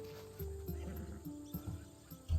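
A horse in the video game Assassin's Creed Odyssey gives a short, low whinny and snorts while hooves clop a few times, close and fairly quiet, with no speech.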